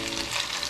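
Fries and corned beef are stirred together in a hot pan, giving a steady, close, continuous sizzle and frying hiss with faint stirring scrapes and no speech.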